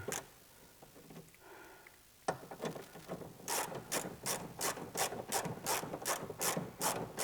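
A ratchet wrench clicks in a fast, steady run of sharp pawl ticks while bolts are backed out of the exhaust on a Porsche 997 Turbo, close up and alone after a quiet start with faint rubbing.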